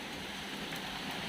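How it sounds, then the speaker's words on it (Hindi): Heavy monsoon rain pouring near a balcony, a dense steady hiss of falling water with no breaks, fairly loud and continuous throughout. "देखना अभी भी कितनी तेज़ बारिश हो रही है ना।"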